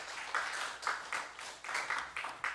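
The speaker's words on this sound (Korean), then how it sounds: "하나님께 영광의 박수 드리겠습니다." A church congregation at a Sunday afternoon service claps in praise, a fairly quiet, loose patter of hands that swells and dips in uneven bursts.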